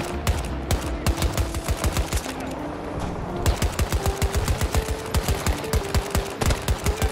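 Rapid bursts of VCAR rifle fire in Battlefield 2047-era combat...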